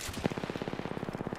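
Rapid automatic gunfire in a video game firefight, a steady stream of evenly spaced shots at moderate loudness for over a second, with no talk over it.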